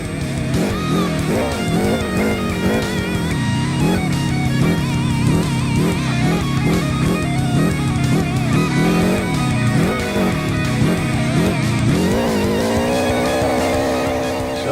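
A monster truck in the Rigs of Rods driving game runs its engine loud and steady for the whole stretch, pitch rising and falling through repeated revs with a final climbing rev near the end.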